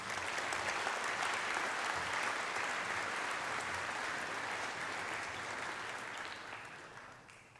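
A school audience at a speech night applauds its junior award winners with dense, sustained clapping that fills the hall for several seconds before slowly thinning out at the end.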